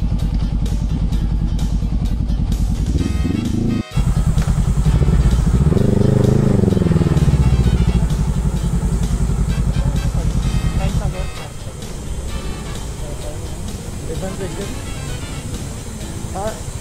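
Three motorcycle engines drone loudly and continuously up close at the Monte Maria entrance in Batangas, with a surge in revving midway, while people talk over the noise.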